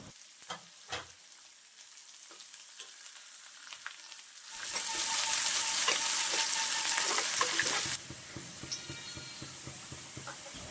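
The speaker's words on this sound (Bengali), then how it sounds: "এখন আরও ভালোভাবে পেঁয়াজ কুচিটা নেড়ে চেড়ে ভেজে নেব।" Chopped onions stirred and sizzling in hot oil over a red-fried tempering for potato and red lentil dal, with scraping stirs at first, then a loud burst of frying mid-way that settles back to a steady sizzle.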